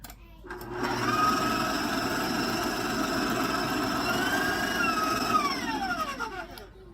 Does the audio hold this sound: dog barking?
no